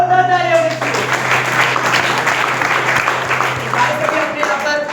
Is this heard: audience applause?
yes